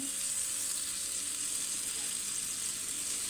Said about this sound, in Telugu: ముందుగా అట్ల పెనం పెట్టుకొని కొంచెం వెన్న వేసుకోవాలండి